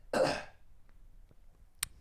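A single harsh throat clearing up close, followed by near silence and a faint click.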